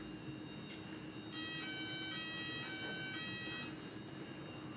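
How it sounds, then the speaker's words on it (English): A fire alarm in an inquiry hearing room sounds a steady electronic tone in repeated bursts over a low constant hum, fairly faint and without talk. "I was told there wouldn't be a fire alarm today"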